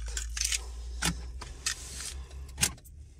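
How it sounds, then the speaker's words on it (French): A keyless key card comes out of a Renault Megane 3's slot with a few faint clicks and light plastic scrapes, sparse and close in a quiet car interior. "Je vais enlever la carte"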